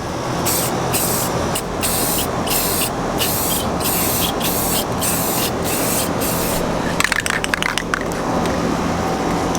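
An aerosol can sprays clear coat onto a mini bike being finished to match a '68 C10, a loud steady hiss broken by short rhythmic pauses between bursts, with a brief clatter near the end.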